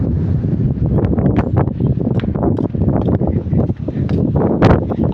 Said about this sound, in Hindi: इस तरह खतरनाक तेज हवा आ चुकी है